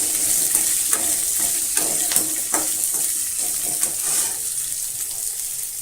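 Shallots sauté in a pan for radish chutney, giving a steady bright sizzle with intermittent scraping stirs and clinks close by.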